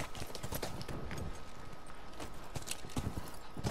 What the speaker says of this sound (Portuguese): Já achei que o cavalo ia me atropelar aqui.